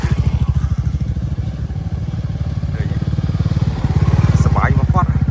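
Motorcycle engine chugging in a fast, steady pulsing rhythm, close and loud, growing stronger toward the end as it rides past; people talk faintly in the background.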